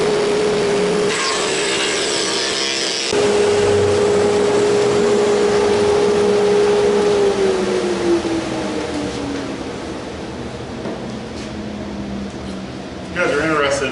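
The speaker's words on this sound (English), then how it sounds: "and we have a shaping machine." Wood shaping machine cutting a sign, a loud steady motor whine with rough cutting noise that gradually winds down in pitch, with the machine starting up again near the end.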